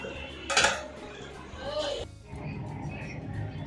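Plates and dishes clatter as a meal is laid out, with a sharp clink early on and softer scraping and handling sounds after, close by in a quiet room.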